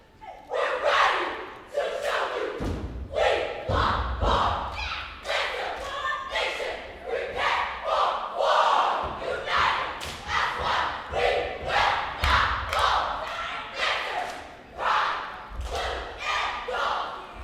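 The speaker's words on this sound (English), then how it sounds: "The crowd's loving it." A crowd at competitive cheer semifinals cheers and shouts in rhythmic, chant-like bursts, with thumping stunts beneath it, loud and close throughout.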